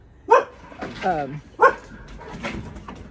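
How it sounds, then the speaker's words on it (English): Neighbours' dogs barking nearby in a residential area, three or four sharp barks with a yip spaced over a few seconds, over a low background and a brief spoken word. "sorry about the dogs barking"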